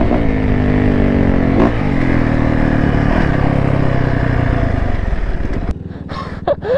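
Two-stroke dirt bike engine revving hard while riding, a loud raspy drone rising and falling in pitch, then dropping off abruptly near the end into a lower, quieter sputter.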